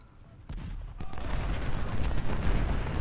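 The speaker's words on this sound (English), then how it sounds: "Firing at Macintosh again." Dense, continuous volleys of musket and cannon fire from a Civil War battle at Antietam in Ultimate General: Civil War, a rolling crackle of massed shots with heavy low booms that builds after a quieter opening and keeps going.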